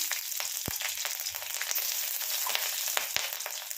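Slit green chilies frying in oil with a five-spice tempering, a bright crackling sizzle dotted with a few sharp pops and light stirring taps.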